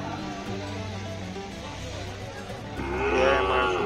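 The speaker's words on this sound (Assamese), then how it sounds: "এয়াই আমাৰ ফুলগুৰি গৰু বজাৰ।" Cattle lowing at the Phulguri cattle market, a deep sustained moo swelling near the end over a steady crowded outdoor hubbub of livestock and distant voices.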